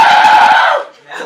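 A loud, sustained shout-like scream from a man charging out of a church with a hockey stick, trailing off after about a second.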